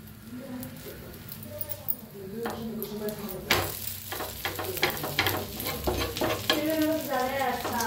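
An egg fries in a pan for a bread omelette, giving a low sizzle that grows busier as a spatula scrapes and nudges it loose. Someone talks over the cooking.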